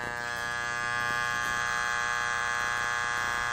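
A Wahl AC hair clipper, power screw turned clockwise, gives a loud, steady, close electric buzz with a harsh rattling edge, unbroken for the whole stretch.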